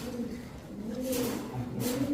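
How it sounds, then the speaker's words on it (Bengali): Old-breed giribaz panki pigeons coo in a house full of birds, with steady, overlapping low throaty calls that run close and continuous through the short stretch. "প্রচুর কবুতর ভাই, আজকে ঘর ভরা কবুতর।"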